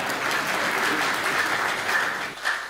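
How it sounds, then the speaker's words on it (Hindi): An audience claps steadily at a live comedy and song show, dense continuous applause filling the room that fades slightly near the end. "तालियां बजा दी जाओ"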